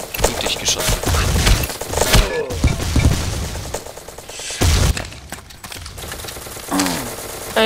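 Rapid bursts of gunfire from the blocky shooter game Ace of Spades crackle at close range with sharp impacts and thuds, loud and dense through much of the stretch, while players speak over the action.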